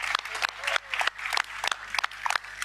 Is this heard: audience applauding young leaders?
yes